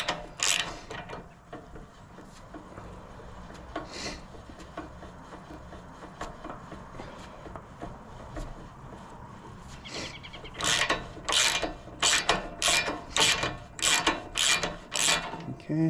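A ratchet wrench working loose the spark plug on a snowblower, quiet fiddling at first, then a loud run of sharp, rapid ratcheting clicks in quick bursts close by.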